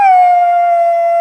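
A person imitates a dog's howl, one long loud steady wailing tone that holds close and alone and fades only slightly at the end.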